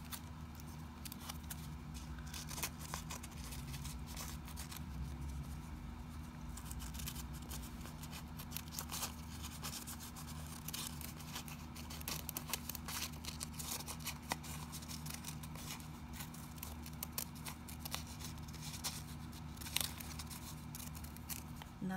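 Scissors cut through journal paper during bookbinding in a steady stream of soft, crisp snips over a constant low hum, faint and close.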